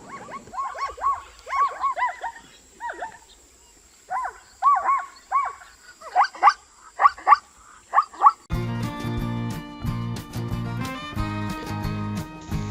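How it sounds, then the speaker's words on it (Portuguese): Zebra calling alone: a series of sharp, barking, braying yelps in uneven bursts, growing louder toward the end before background music takes over. "Som da zebra."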